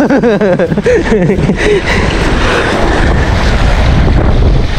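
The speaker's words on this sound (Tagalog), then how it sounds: "Salubong po kasi yung hangin." Steady roar of strong wind buffeting the microphone, with a voice speaking briefly at the start before the gusts take over.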